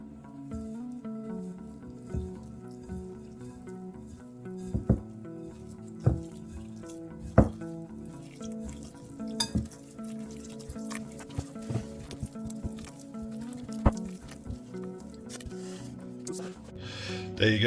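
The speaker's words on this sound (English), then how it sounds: "I'm going to start adding the water and then bring this together like a smooth dough" Leek and cheese scone dough is worked together by hand after water is added, giving soft, irregular squelching and sticky slapping noises with occasional sharper knocks, close up and without speech.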